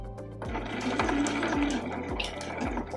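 Sewing machine stitching a seam on scrunchie fabric at reduced speed, its steady rhythmic mechanical whir and repeated needle thumps running close and alone.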